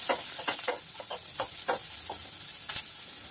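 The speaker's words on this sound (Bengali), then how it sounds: "এখন সবগুলোকে হালকা ভেজে নেব।" Onion, chopped tomato, minced ginger and crushed garlic fry lightly with spices in a pan, giving a soft close sizzle broken by several quick spatula stirs and scrapes.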